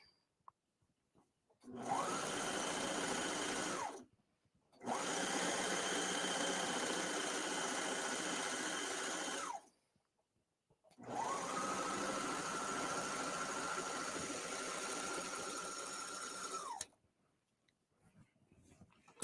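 A serger sewing machine stitches a skirt in three steady, continuous runs of fast mechanical whirring, each lasting several seconds, with brief quiet gaps between them.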